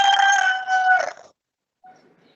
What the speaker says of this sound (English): someone's rooster is really loud.